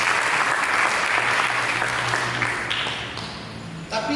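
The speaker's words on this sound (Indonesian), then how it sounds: "Mari kita berikan tepuk tangan." A church congregation breaks into loud, dense applause that holds briefly, then gradually thins and fades toward the end.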